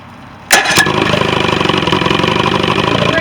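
A 1977 OMC V4 85 hp outboard engine cranks and catches abruptly from near silence, then settles into a loud, close, rough idle with a steady pulsing beat.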